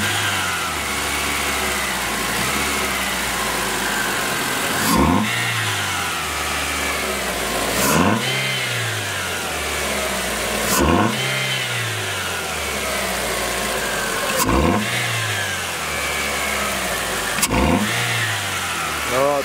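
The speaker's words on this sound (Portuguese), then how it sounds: "vou mandar ele acelerar e vocês também vão ver a diferença do ronco do carro em comparação ao original" Chevrolet Prisma 1.0 or 1.4 with a conical sport air filter intake, revved repeatedly from idle: about five sharp throttle blips rise and fall at regular intervals over a steady close idle, with no voices.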